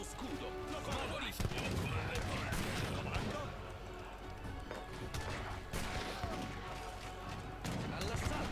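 A fixed gun fires repeatedly in Age of Empires 3 on a snowy Finland map, with sharp shots scattered through a busy battle mix under game unit voices.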